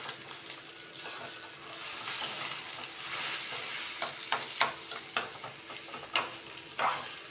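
Food fries with a steady soft sizzle in a pan as salt is stirred in, a spatula scraping and tapping the pan in several sharp strokes over the quiet hiss.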